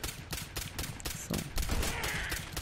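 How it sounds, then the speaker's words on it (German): Rapid bursts of automatic gunfire spray from a weapon in the Fallout 4 video game, a dense run of loud, evenly spaced shots filling the clip with no talk. "Ich spray mal wieder und treffe keinen Schuss."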